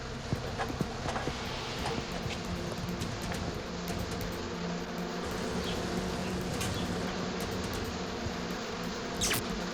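Agitated honeybees swarming as their hive is unhooked from a tree: a dense, steady buzzing hum fills the whole stretch, fairly faint and continuous, with no voices.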